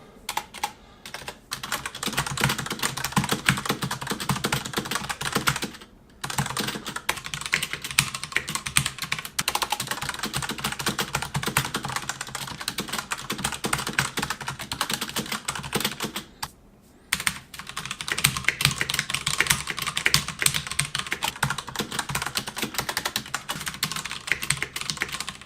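Steady, brisk typing on a Das Keyboard 4 and an original Das Keyboard mechanical keyboard, dense clacking keystrokes close to the mic, with two brief pauses partway through.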